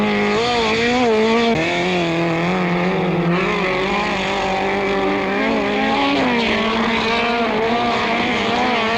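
A Hillman Imp launches from the start at a 1970s autocross, its engine loud and close, revving hard and rising in pitch through the gears, with tyre squeal beneath it.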